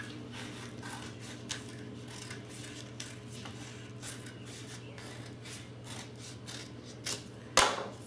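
Scissors cutting long thin triangular strips of glossy magazine paper for rolled beads, a series of soft slicing snips spread across the clip, close and quiet, ending in a sharper louder cut.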